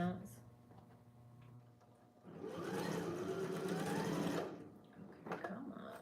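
A sewing machine runs a fast, steady stitching burst along a corset dress seam for about two seconds, loud and close, with quiet talk before and after it.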